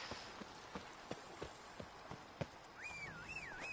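Roach the horse's hooves clop in The Witcher 3, a steady rhythm of distinct, moderately close hoofbeats, followed by a brief whistling tone near the end.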